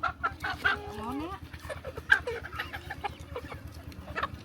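Chickens brought to a rural market in Salavan province, Laos, for resale cluck and squawk close by in irregular bursts, with faint human voices beneath.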